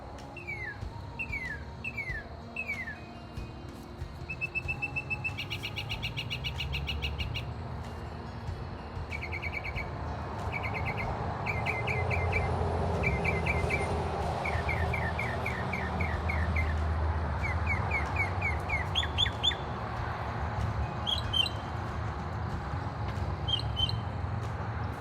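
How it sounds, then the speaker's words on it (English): A bird sings repeated, varied phrases through the night in Texas, with a steady chorus of crickets and insects filling the background. "My favorite thing about Texas is this bird."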